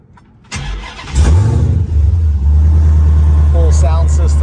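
A 1972 Plymouth Duster restomod fitted with a Hellcat engine cranks and fires up, settling into a loud, rumbling idle with a rising supercharger whine as voices talk over it.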